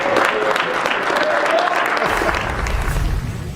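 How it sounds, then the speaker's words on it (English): Applause for Nikola Jokic at his 2021 NBA MVP award, a loud, dense burst of clapping from a room full of people that continues throughout, with crowd noise. "We should join in the applause, I believe, as we welcome Nikola Jokic to the proceedings"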